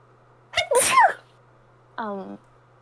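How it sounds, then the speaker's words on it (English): A single sharp sneeze, followed a moment later by a short voiced sound. "You're allowed to sneeze"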